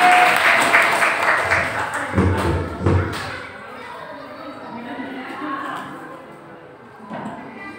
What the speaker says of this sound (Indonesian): Beri aplaus dari MI Darussalam.